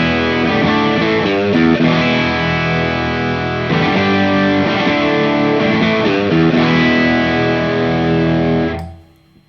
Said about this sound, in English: So that's got that tube screamer thing where there's a little bit of clean in